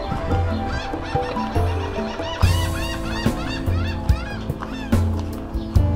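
Busy chorus of bird calls at a boatyard, honking and squawking over one another in quick bursts, fairly loud and close, with a dense layered background.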